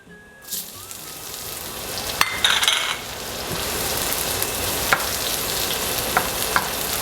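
Onion and garlic sautéing in a pan for pork belly bistek, a steady loud sizzle with a few sharp spatula scrapes and clinks partway through, no voices.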